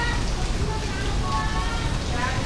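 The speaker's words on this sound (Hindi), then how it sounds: "तो बहुत ज्यादा हैवी रेन हो रही है अभी" Heavy rain falls steadily in a dense, unbroken hiss that stays loud and even throughout, with no other sound standing out.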